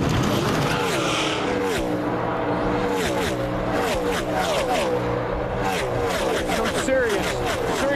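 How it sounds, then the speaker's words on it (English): NASCAR stock cars racing at the 2006 Auto Club 500: a loud, continuous roar of engines with rising and falling pitches as cars pass, with a commentator talking over the noise. "Serious racing going on back here"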